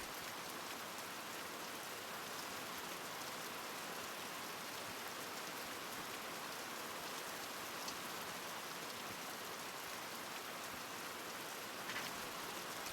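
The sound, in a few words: loud rain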